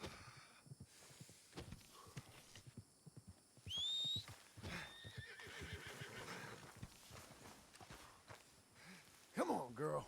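Horse neighing and hooves clopping in the Red Dead Redemption 2 video game, a whinny rising near the middle among walking hoof beats, with game ambience and someone talking over parts.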